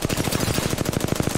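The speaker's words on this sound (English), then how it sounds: "They're shooting my shield." Rapid automatic gunfire in a video game peppers a shield, a fast, loud, evenly spaced burst of shots close up and unbroken for the whole stretch.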